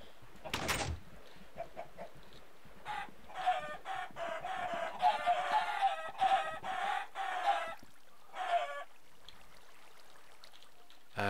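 Chickens cluck and squawk in a compact chicken farm in a block-building video game, a burst of clucking at the start followed by steady, overlapping cackling calls with brief pauses, fairly loud and close.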